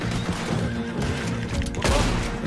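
A horse in the Western video game Red Dead Online lets out a loud, close whinny, with hooves clopping and a sharp crash breaking in near the end.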